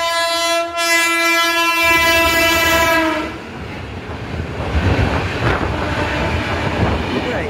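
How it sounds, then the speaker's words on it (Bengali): A train pulls in to platform 3 at a railway station near Kolkata, sounding a loud, sustained horn blast before giving way to a heavy rolling rumble and clatter of wagons close by. "এই মুহূর্তে হচ্ছে আমাদের ট্রেন প্রায় চলে এসেছে"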